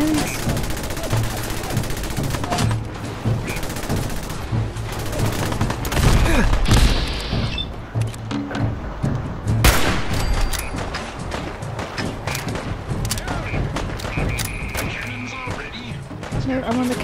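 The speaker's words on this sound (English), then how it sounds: "Cannons." Cannon fire from a flying pirate ship in Fallout 4, a rapid string of loud booms and bursts of gunfire crowding the game soundtrack, with players talking over it.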